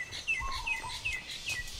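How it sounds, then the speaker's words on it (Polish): Forest ambience added as background sound in a video game, with small birds chirping and tweeting in quick repeated calls, fairly soft and clear with no talking. "Oj, te dodane dźwięki lasu w tle. O, jakie fajne ptaszki!"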